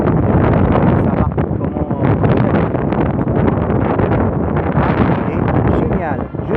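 Wind by the Saône quay in Lyon on a sunny day, rushing gusts buffeting the microphone loudly and continuously while a person talks over it.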